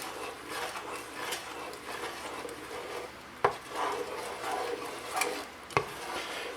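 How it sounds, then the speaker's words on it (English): A spoon scrapes and stirs through thick turkey sausage chili in a pot, with a continuous close rubbing texture and two sharp knocks against the pot's side. "We will stir this up again."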